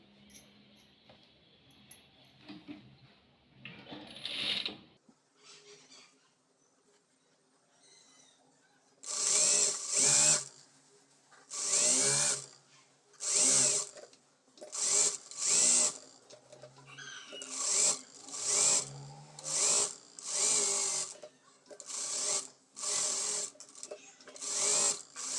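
A sewing machine stitches a puff sleeve in a run of short, regular bursts of rapid mechanical whirring with brief pauses between them, close and clear after some quieter handling noise at the start.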